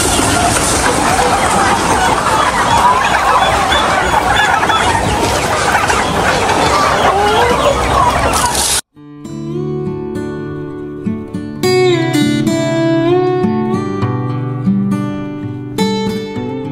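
A flock of nearly 10,000 ducks on a farm gives off a dense, loud wash of quacking and clucking for about nine seconds, then cuts abruptly to other sound.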